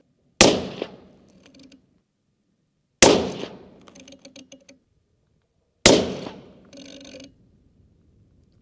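Three loud, sharp rifle shots firing Barnes ammunition at a target ring out a few seconds apart, each followed by a brief metallic clatter of the bolt being cycled, with no talking.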